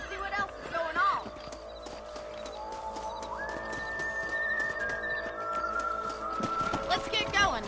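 Hooves clip-clop at a steady galloping rhythm while riding in the Red Dead Redemption video game, with a horse neighing early on, background music droning, and a voice speaking over it.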